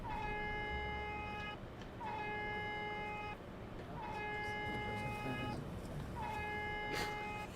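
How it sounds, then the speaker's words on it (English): Bus horn in The Bus simulator game, an alpha-version bus sounding a steady tonal honk four times in long blasts with short gaps, loud and close over a constant engine and road rumble. "I'm gonna honk at him."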